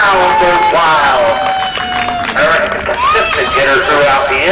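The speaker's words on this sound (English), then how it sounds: "The crowd goes wild." A crowd at a youth baseball game cheers and shouts loudly, with excited voices rising and overlapping close by, while people talk through the noise.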